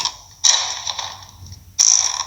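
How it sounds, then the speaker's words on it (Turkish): A heavy door opening in the horror game The Baby in Yellow, heard as two loud mechanical creaking, ratcheting surges, one near the start and another near the end, with no talk over them. "Aç şu kapıyı aç."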